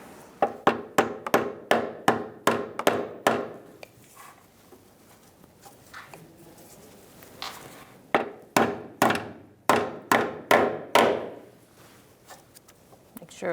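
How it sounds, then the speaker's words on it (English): A small hammer taps in quick, steady bursts on a car's rear brake hose line: a run of about a dozen sharp knocks, a pause, then another rapid series. "You might need a little hammer to just tap it up."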